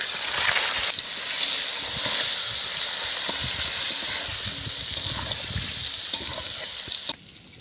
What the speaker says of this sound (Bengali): ওই তেলের মধ্যে বেগুনটা আমি হালকা করে ভেজে নেব।